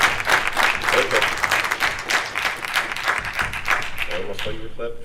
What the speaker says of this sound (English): I almost thought you were clapping for me.